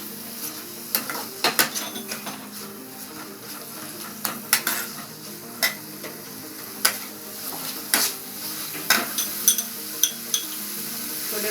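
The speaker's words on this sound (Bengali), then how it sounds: "লঙ্কা হলুদটা মিশিয়ে নিচ্ছি মশলার সাথে" Chili and turmeric powder being stirred into masala frying in a pan: a spoon knocks and scrapes against the metal pot in irregular clanks over a low continuous sizzle, close and without talk.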